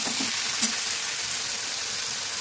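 Poppy seeds frying in a wok before ridge gourd goes in, a dense even hiss of sizzling oil with a couple of faint early stir clinks, steady and close throughout.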